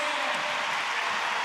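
A volleyball arena crowd roars and cheers after a long rally in a Serbia vs USA VNL 2025 women's match, a dense wash of noise that stays steady and sustained.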